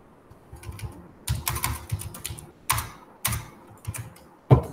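JavaScript code is typed on a computer keyboard in irregular bursts of close, crisp key clicks separated by short pauses, finishing with one sharper keystroke.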